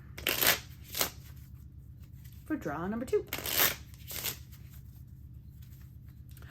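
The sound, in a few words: shuffling a deck of playing cards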